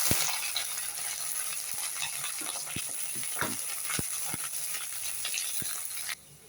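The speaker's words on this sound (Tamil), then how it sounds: "வெங்காயம் வதங்கினதில் பீன்ஸு போட்டு வதக்கி" Green beans sautéing with softened onions in a pan for rice pulao, a steady close sizzle with sharp scraping clicks of a spoon stirring every second or so, no talking.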